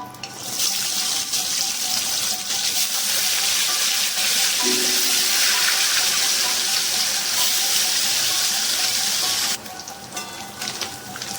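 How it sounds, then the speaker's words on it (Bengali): Fish frying in mustard oil in a pan gives a loud, steady, close-up sizzling hiss that runs almost unbroken, dipping briefly near the end before picking up again. No voices. "রান্নাটা শুরু করছি পরিমাণ মতো তেল দিয়ে দিয়েছি এবার মাছগুলো প্রথমে ভেজে নেবো"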